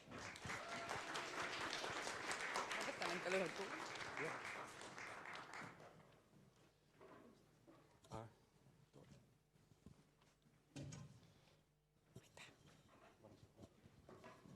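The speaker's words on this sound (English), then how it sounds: "please, big round of applause for her" An audience at a game jam event applauds for several seconds, a dense, fairly quiet wash of clapping that fades out. Scattered faint knocks, shuffling and room noise follow.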